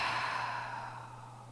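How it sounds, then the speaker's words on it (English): A single slow exhale through the mouth during a prenatal yoga breathing exercise, soft and close, fading out over a second or so. "And then exhaling through the mouth."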